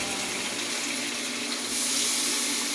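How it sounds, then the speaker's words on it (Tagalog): A little water pours into a vegetable dish during home cooking, a steady splashing stream heard close with no talking. "Kainin nyo na yung gulay. Lagyan ng konting Tubig."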